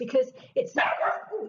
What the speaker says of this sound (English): excuse my dog, she's going a bit crazy.